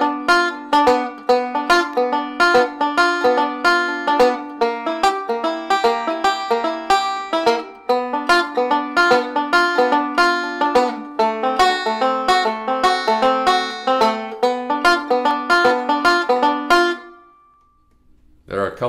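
Boogie woogie chords on banjo, played with a roll: a steady stream of bright, rapid plucked notes in a driving rolling rhythm, loud and close, stopping abruptly before a short pause.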